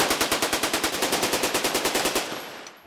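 Machine guns fire a rapid, evenly spaced burst of loud, close shots at a large outdoor machine gun shoot in West Point, Kentucky, roughly two and a half seconds of sustained automatic fire that then stops.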